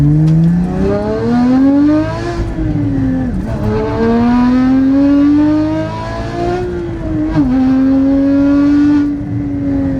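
A Porsche GT4 engine revs up and holds high on a dyno with exhaust valves closed, its pitch climbing and dipping in long sustained pulls, loud and close throughout.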